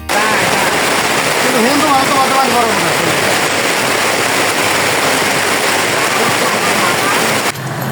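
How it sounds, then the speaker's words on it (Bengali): Heavy rain pours down in a loud, dense, unbroken wash of noise close by, with a brief voice-like sound near the start before the downpour continues steadily to the end. "আকাশে রোদ উঠছে কিন্তু তারপরে বৃষ্টি নামতেছে"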